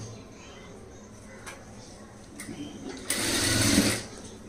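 A sewing machine begins stitching a front gap blouse, soft clicks giving way to a louder, steady whirring run near the end, over a faint background hum.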